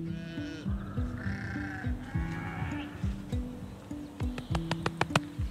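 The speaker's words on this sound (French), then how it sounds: "Petit élevage, on a une quarantaine de moutons." Sheep on a small farm bleat repeatedly and overlapping, several close and loud voices calling in quick succession, with sharp clicks or knocks near the end.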